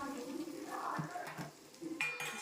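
Stirring a Telugu-style broad bean and tomato curry in a pan, with spoon scrapes and light clinks against the metal over a faint simmering sizzle, close and moderately quiet.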